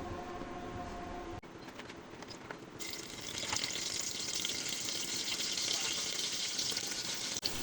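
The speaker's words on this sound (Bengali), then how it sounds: "তেলটি গরম হয়ে গেলে কিছু কাঁচা পেঁয়াজ কিছু রসুন আর একটু কাঁচা ঝাল ভেজে নেব" Raw onion, garlic and green chili fry in hot oil with a continuous, dense sizzle. The sizzle grows louder and brighter partway through as the ingredients hit the oil, and there is no speech.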